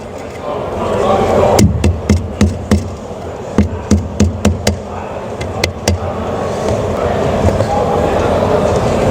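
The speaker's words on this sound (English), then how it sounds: "I'll use a rubber mallet gently on top of my nice Stabilo level" A rubber mallet taps a Stabilo spirit level set on the mortar mud of a shower floor. About a dozen crisp, close knocks come in short bursts over a steady low background hum.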